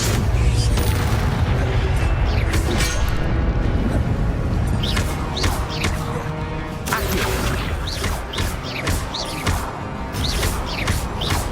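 An Incendio fire spell cast in the Hogwarts Legacy video game, heard as dense, loud booming blasts and crackling bursts over a constant roar of game sound.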